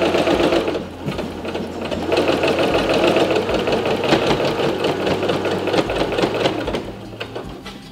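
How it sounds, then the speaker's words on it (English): A sewing machine runs steadily and loud, stitching a hanger into the seam of a linen tea towel, with a continuous rapid mechanical chatter and a brief slowdown near the start. "And then I just continue to stitch all the way down until I've reached the end."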